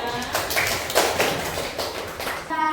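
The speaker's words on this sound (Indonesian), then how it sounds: "Tepuk tangan untuk kelompok 3." Applause for a group at a training class: scattered hand claps and taps from a modest audience, uneven bursts of clapping across a few seconds rather than a full roaring ovation.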